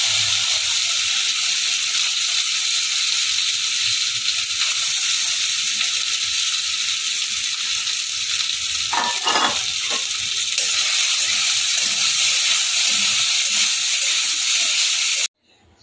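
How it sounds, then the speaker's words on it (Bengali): Soya chunks fry in a little hot oil in a wok, giving a loud, steady hiss of sizzling throughout. A brief clatter of stirring comes midway before the sound cuts off at the end. "সয়াবিনগুলোকে লাল লাল করে ভেজে তুলে নিয়েছি।"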